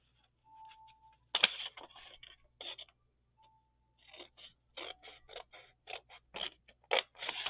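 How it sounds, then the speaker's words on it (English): Scissors snip through the folded seam of a paper zine in short bursts of cutting, close and crisp, with quiet pauses between runs of snips. "you're just going to cut this seam here"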